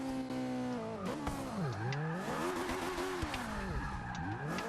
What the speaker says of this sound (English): It's constantly over revving, I think it's got too much power.